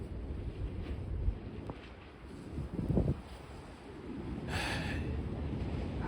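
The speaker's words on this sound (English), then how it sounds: "The winds are continuing to crank." Strong gusting wind buffets the microphone outdoors in a steady broadband roar, swelling and easing over several seconds with a brief louder gust near the middle.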